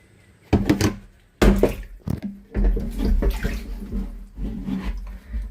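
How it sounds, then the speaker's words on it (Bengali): Water gushing and splashing as a household water tank is drained, in irregular loud bursts with brief pauses and knocks, close by with no talk. "টাঙ্কির পুরো পানিগুলো খালি করতে হবে যেন পুরো পানিগুলো শেষ হয়ে যায়।"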